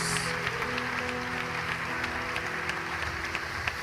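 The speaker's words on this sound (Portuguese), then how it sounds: "Quantos podem aplaudir ao Senhor neste lugar?" Church congregation applauding during a sermon, a moderate continuous patter of clapping over sustained music tones, fairly even throughout.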